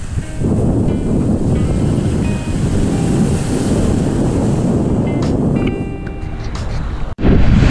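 Sea waves wash continuously under strong wind buffeting the microphone, loud and close, with a brief sharp cut near the end, on the coast at General Nakar, Quezon.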